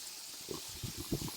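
Soaked red beans are rinsed under water in a kitchen, a faint splashing and sloshing that builds into a few short, louder gushes near the end.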